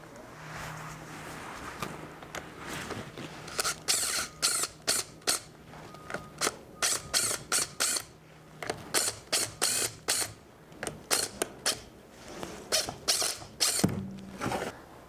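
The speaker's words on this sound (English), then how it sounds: "now I remove the boom holding valve" A boom holding valve being removed from the main control valve of a Doosan DX22 mini excavator, with repeated quick metallic ratcheting clicks in steady bursts, close and crisp, punctuated by pauses and a low hum near the end.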